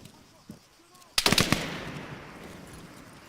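A short burst of machine gun fire in the Arma 3 video game, about five rapid loud shots followed by a ringing echo tail, with faint quieter sounds before it.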